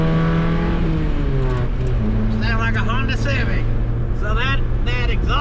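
A 1979 Chevy Luv truck engine revs loudly and steadily, its pitch rising and falling, while people talk over it.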